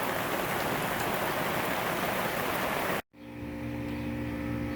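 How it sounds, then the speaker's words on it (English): Heavy rain pours steadily onto a house roof and gutter guards, a dense, loud hiss of drops that cuts out abruptly and resumes a little lower. "see, even in a heavy rain,"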